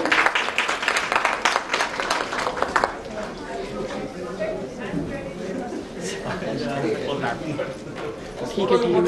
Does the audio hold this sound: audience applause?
yes